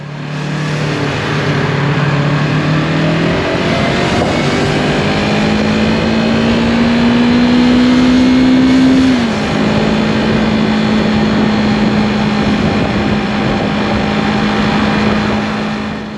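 A Yamaha MT03 motorcycle rides through commuter traffic, its engine droning steadily and loud with a rising pitch as it accelerates, then settling again, with surrounding road noise and no talking.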